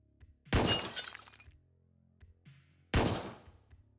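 Two loud glass-shattering crashes in Hotline Miami 2: Wrong Number, each a sharp broadband burst with a trailing tinkle of shards, separated by about two seconds with a low game hum beneath.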